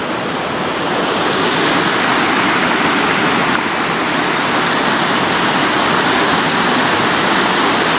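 A swollen stream after Hurricane Sandy churns hard over rocks in a loud, continuous, close roar of rushing water. The level holds steady from start to finish and no one speaks.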